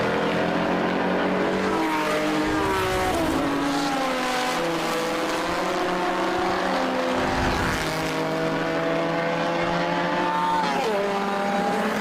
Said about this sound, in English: Car 52, the beautiful little Alfa Romeo there, heading around on our screen.